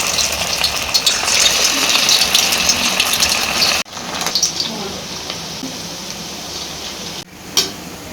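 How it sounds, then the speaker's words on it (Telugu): Spoonfuls of punugulu batter drop into hot oil for deep frying, giving a steady loud sizzle and hiss that drops off briefly midway and then continues more quietly. "ఇప్పుడు కొద్ది కొద్దిగా పిండి తీసుకుంటూ ఈ విధంగా పునుగులాగా వేసుకోవాలండి"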